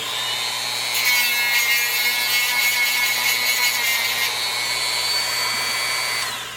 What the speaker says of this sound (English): I guess I can sand just a tad bit more